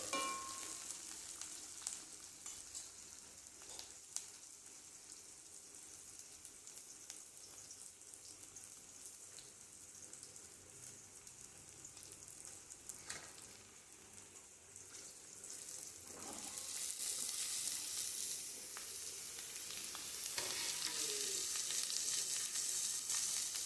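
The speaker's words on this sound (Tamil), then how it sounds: "அதுக்கப்புறம் அந்த பூசணிக்காய் நறுக்கினதை அதில் கொட்டணும்." Chopped yellow pumpkin frying with onions in a pan, a steady crackling sizzle that swells louder near the end as the pieces hit the hot oil, with occasional stirring clicks and no talk.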